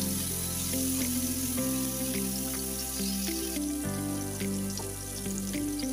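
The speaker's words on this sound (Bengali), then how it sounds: "আর এখন সম্পূর্ণ মাছগুলো আমি দিয়ে হালকা ভেজে নেব" Whole rui fish fry in plenty of hot oil in a pan, producing a continuous, fairly loud hissing sizzle with a steady tonal drone in the background and no talk.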